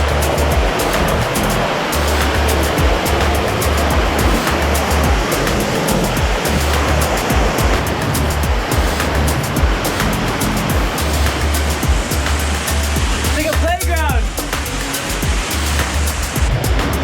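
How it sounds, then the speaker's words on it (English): Rushing water from a small waterfall in a Davao, Philippines waterfall area, a loud, steady broadband roar filling the whole stretch with no voices. "We climb up a mini waterfall to get to the bigger one."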